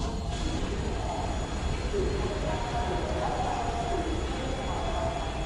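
A passenger train on the Trans-Siberian journey rumbles steadily, a continuous close wash of wheel and carriage noise with faint squeals, while voices murmur underneath.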